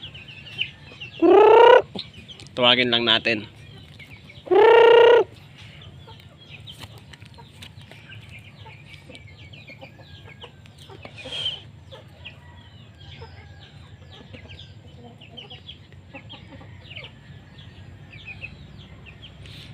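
Free-range farm chickens being fed near a rooster give three loud, close clucking calls early on, then a fainter squawk later over a low outdoor rumble; a voice speaks briefly.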